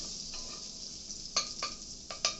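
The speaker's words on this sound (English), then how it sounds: "I'm going to saute that for like 2 to 3 minutes" A medium onion sautés in a hot pan for a lima bean dish, giving a steady close sizzle broken by a few crisp clinks and scrapes of a utensil stirring against the pan.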